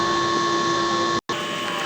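A DTF printer running its print-head cleaning cycle gives a steady mechanical whir with a thin tonal whine, broken by one brief dropout before the hum resumes, close and even.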